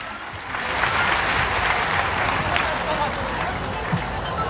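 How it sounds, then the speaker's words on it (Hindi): A large crowd at a religious gathering at Bageshwar Dham breaks into loud, sustained applause, a dense wash of clapping that swells quickly and holds steady throughout. "जोरदार तालियां बजाएं।"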